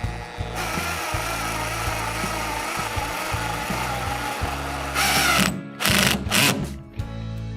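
A power drill drives well nut assemblies into a Hobie Mirage Outback kayak for an anchor trolley kit, whirring in short stuttering bursts close up, ending with a few louder, choppy pulses.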